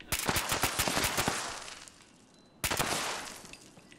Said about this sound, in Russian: Да, у меня оружие взрывное.